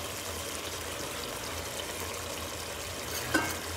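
Fried eggs are set into a simmering curd gravy for egg biryani, giving a soft, steady bubbling and faint sizzle close by, with one small clink of a spoon near the end.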